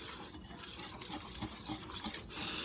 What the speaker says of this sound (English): now we're going to add in the oatmeal mixture into the egg mixture. Whisk this all together.